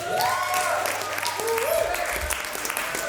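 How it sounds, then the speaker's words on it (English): An audience applauds at a jazz concert in a small venue. Clapping continues throughout while a voice talks over it. "Give him one round of applause."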